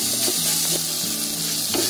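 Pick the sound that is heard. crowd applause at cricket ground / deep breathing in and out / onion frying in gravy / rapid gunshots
onion frying in gravy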